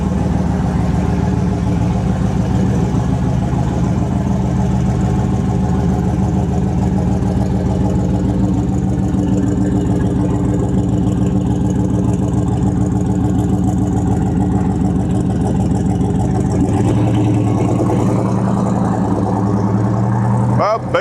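A VZ SS turbo car rumbles at low speed around a yard, its engine note steady and close, with a voice talking over the running motor throughout.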